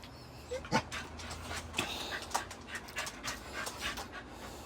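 A dog pants steadily and rhythmically at close range, a quick run of breathy huffs over faint background noise.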